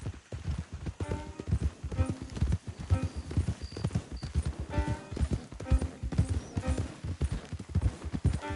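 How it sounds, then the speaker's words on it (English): Horses' hooves clop steadily in an irregular trotting rhythm, fairly close and continuous throughout, with no talking over them. "Don't want the horses clopping around outside the window."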